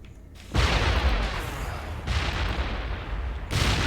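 Grenades explode in the video game Mass Effect, three heavy, close blasts about a second and a half apart, each a loud roaring burst that holds and rumbles until the next, with no talk.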